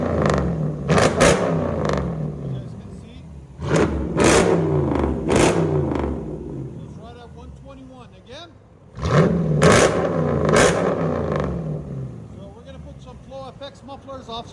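A Jeep Grand Cherokee SRT with a 6.4L HEMI V8 and aftermarket mufflers revs in several loud, sharp bursts, each climbing and falling away, with people talking between and over the revs.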